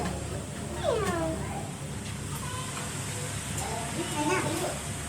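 A pet cat gives two drawn-out meows indoors, one near the start and one near the end, moderately close over a low steady background hum.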